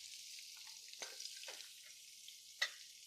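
Butter sizzles steadily in a pan for lobster bisque, a soft continuous hiss with a few faint pops and one sharper clink near the end, close and quiet with no talking.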